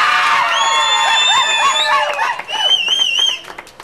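A college audience at a quiz event cheers and applauds, with high whoops and shouts over clapping, loud and close, easing off near the end.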